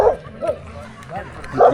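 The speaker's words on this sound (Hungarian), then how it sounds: "Kutya." A dog barks and yips a few times near camp at about 3,380 metres on Acatenango volcano, with short spaced barks close by and people talking quietly around it.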